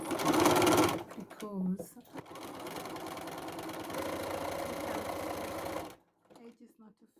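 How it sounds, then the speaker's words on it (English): A sewing machine runs a zigzag stitch along a bag lining in a steady, close mechanical whir lasting several seconds, with someone talking over its start and a brief pause before it stops. "I'm going to zigzag the lining"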